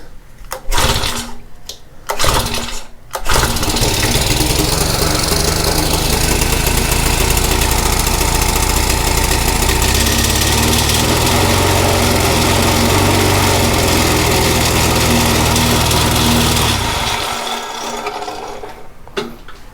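A Honda FG100 tiller engine runs with its choke on and a dirty carburetor, a loud, steady, close-up mechanical drone that holds for about fourteen seconds, then fades out after a few brief bursts at the start.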